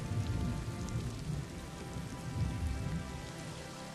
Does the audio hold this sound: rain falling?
yes